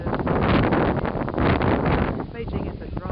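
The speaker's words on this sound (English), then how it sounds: "Beijing, but it is pretty windy." Gusty wind in Beijing near a dusty construction site roars steadily against the microphone, loud and buffeting, with a slight easing toward the end.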